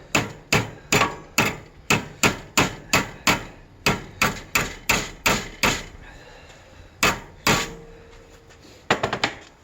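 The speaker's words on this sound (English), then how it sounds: "I guess I'm going to have to do a little bit of hammering here" Hammer blows on a DIY bottle washer build, struck in a steady run of about sixteen sharp, evenly spaced hits, then a pause and a few more scattered knocks, close and loud.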